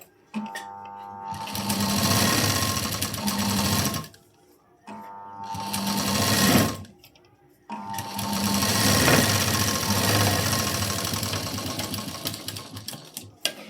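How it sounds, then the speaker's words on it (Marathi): Sewing machine running in long stitching bursts while a blouse is sewn, with a brief pause near four seconds and another around seven seconds; loud, close and steady, with no speech. "इथे मी लगेच दुसरी शिलाई देऊन घेते."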